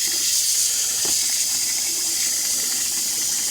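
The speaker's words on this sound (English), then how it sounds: "I have a nice detachable faucet. I'm just using, like, mild water." Mild, lukewarm water streams steadily from a detachable kitchen faucet, a constant close rushing hiss with no pauses and no talking.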